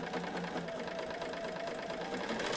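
A sewing machine stitches steadily along a quilt block seam line, a continuous close mechanical whir holding level throughout with no pauses.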